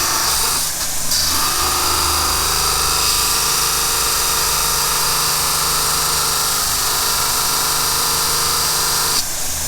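A belt grinder grinds a brazed carbide cutting bar, a steady, loud abrasive whine that runs almost without a break near the microphone, dipping briefly at the start and end.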